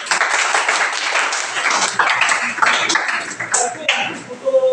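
Classroom applause for a presenting student group, a steady burst of many hands clapping close by, loud and continuous with a few sharper claps toward the end.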